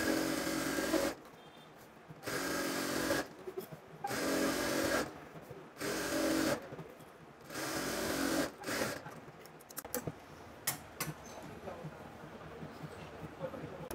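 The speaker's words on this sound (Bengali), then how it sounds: "এখান দিয়ে এক চাপ দাবিয়ে আরেকটা সেলাই দিয়ে দেব" A sewing machine stitches a petticoat waistband in several bursts of steady whirring, each lasting about a second or more and separated by short pauses, then gives way to fabric handling and light clicks.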